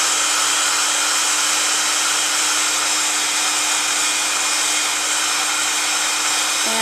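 A heat embossing tool blows steadily over vellum cardstock flowers, a loud, even fan-heater whoosh with a faint steady hum that barely changes from start to finish.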